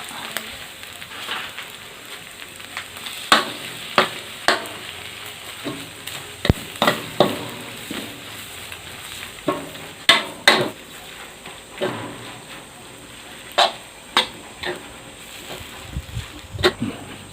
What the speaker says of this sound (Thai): ขูด ขูดตรงที่มันติกกระทะนะครับ